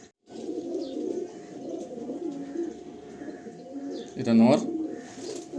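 Madrasi pigeons coo in low, throaty rolling calls close by while someone talks over them, with a louder burst of cooing near the end.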